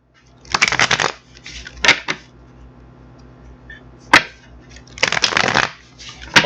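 Tarot cards being shuffled by hand, several close riffling bursts with crisp snaps and short flicks between them, loud against a quiet room.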